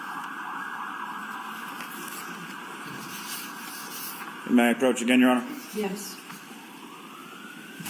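Wailing emergency vehicle sirens pass outside a courtroom, sweeping faintly in the background beneath a steady room hum while a lawyer and judge briefly speak.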